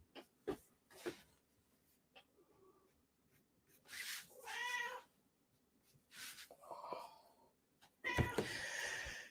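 A pet cat meowing close by, several separate drawn-out meows scattered among faint rustling and quiet gaps, with no talking.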